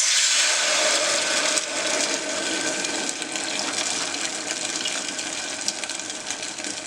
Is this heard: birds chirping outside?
no